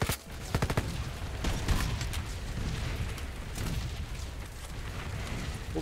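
Artillery fire in the video game Red Solstice 2: heavy booms and rumbling blasts mixed with rapid bursts of gunfire, dense and continuous, loudest early and staying steady throughout.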